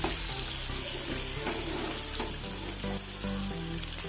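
Sardines frying in a small amount of oil in a pan, a dense continuous sizzle with faint scraping and stirring, steady and close with no talking.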